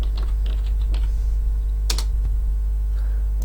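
Computer keyboard typing of a short label during a simulation software demonstration: a few scattered key clicks and a brief louder burst over a steady mains hum.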